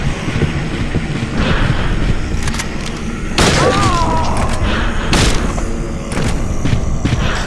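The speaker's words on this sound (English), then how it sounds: "Watch out, she's shooting!" Enemy gunfire in the survival horror video game Silent Hill 3, heard as loud booming shots and heavy thuds over a dense, noisy game soundscape, with a tonal cry in the middle.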